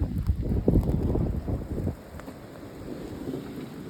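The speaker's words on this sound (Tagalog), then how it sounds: "Malakas na hangin." Strong wind in a heavy snowstorm gusts and buffets with a low rumble, loudest in the first two seconds, then easing to a softer, steady rush.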